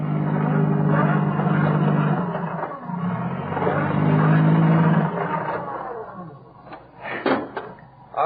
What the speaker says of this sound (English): Your car wheels just keep spinning.